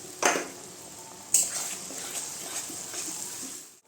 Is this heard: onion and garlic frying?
yes